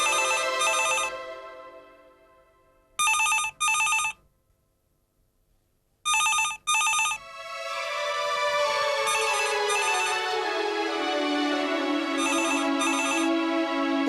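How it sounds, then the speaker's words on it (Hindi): A telephone rings in repeated double bursts of bright electronic trills, loud and close, with pauses between bursts. Near the end a sustained tonal backdrop swells beneath the continuing rings. "देखो तो फोन की घंटी कब से बज रही है"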